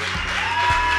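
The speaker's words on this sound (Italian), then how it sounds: "Un applauso con gli sposi." Wedding guests applaud the newlyweds at a reception at Tenuta Serradesca, a brief wash of crowd clapping mixed under steady background music.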